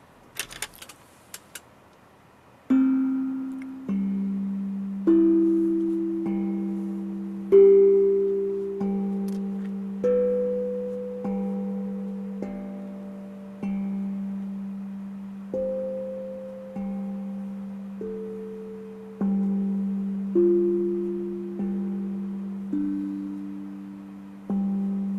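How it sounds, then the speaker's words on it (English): Meditation tones ring out one after another, each clear bell-like note struck and left to decay over a steady low drone, about a dozen strikes at an unhurried, even pace with no talking. "this is the moment where I'm going to hit the tones again"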